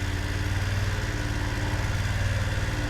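A motorcycle engine runs at low, steady revs during slow-speed riding practice, a close, continuous rumble with no voices.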